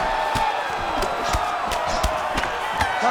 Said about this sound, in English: an appreciative crowd responding in kind